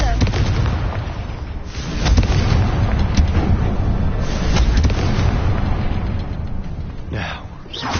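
Confringo blasting spell in Hogwarts Legacy, heavy booming explosions rolling out over several seconds, loud and close, with a voice present.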